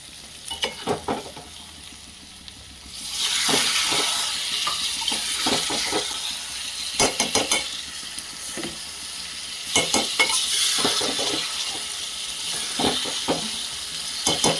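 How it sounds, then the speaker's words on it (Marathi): Water hits moringa drumstick pods frying in oil with chili powder for a Saoji-style dish, and a loud steamy hiss swells and lingers, broken by clattering stirs of a spoon in the pan, all close and without talk. "आता आपण थोडं पाणी घालून घेऊया शेंगाला शिजण्याकरिता।"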